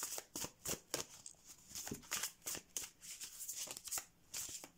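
Playing cards shuffled and drawn for a card reading, a quick run of crisp riffling flicks and slaps, close and fairly quiet, with no talking over them.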